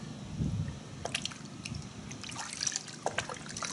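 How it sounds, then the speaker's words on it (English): Chemical Guys Citrus Wash and Gloss car wash soap trickles and drips into water, with soft squishy splashes and scattered faint droplets, quiet and close. "When we pour it into the water,"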